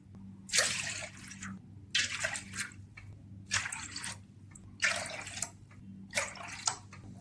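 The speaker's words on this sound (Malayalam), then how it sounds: "പാത്രത്തിലേക്ക് ആറ് കപ്പ് വെള്ളം ഒഴിച്ചെടുക്കുക" Water is poured into a pot in five separate splashing bursts, each about a second long, with short pauses between them, close and fairly quiet, with no talking.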